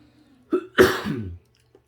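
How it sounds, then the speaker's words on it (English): A single harsh cough burst, preceded by a short throaty catch, close to the microphone, then quiet. "Sorry about the cough, you guys."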